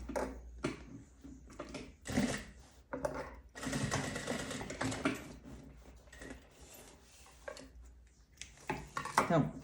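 A sewing machine stitches a suitcase together in short, stop-start bursts of rapid mechanical chatter, close and fairly quiet, with small clinks of handling between runs.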